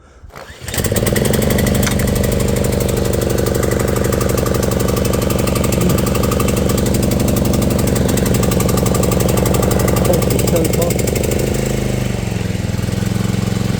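A Viking lawn mower from a sold-as-spares lot catches on the first pull of its starter cord, then runs at a loud, steady, close-up engine drone with no talking.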